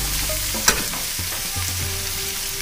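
Garlic and spinach are stirred in a hot pan on a griddle, a steady close sizzle broken by a sharp utensil clink and scraping stir sounds.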